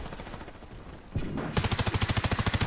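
Rapid automatic gunfire in a competitive video game match, a full magazine emptied in one long, loud, evenly pulsing burst, with scattered shots and action sounds leading into it.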